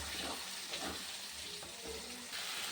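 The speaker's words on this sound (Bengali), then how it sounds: "মশলাটা কষানো হয়ে গেছে" Spice paste of salt, Kashmiri chilli powder and turmeric, loosened with a splash of water, sizzles and crackles in a kadai as it is fried, with scraping of stirring; quiet and continuous.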